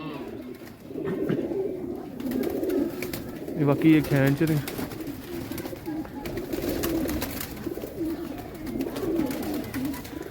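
Soft, low cooing of pigeons rising briefly in the middle, with someone speaking over continuous background chatter.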